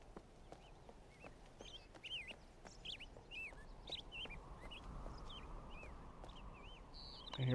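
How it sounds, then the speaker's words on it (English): Birds chirp in the jungle ambience of the video game Riven, with repeated short warbling calls scattered over a soft, continuous background wash, fairly faint and without speech. "I hear birds. Don't see birds, but I hear birds."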